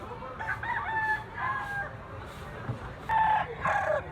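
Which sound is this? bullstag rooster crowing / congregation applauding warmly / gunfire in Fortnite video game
bullstag rooster crowing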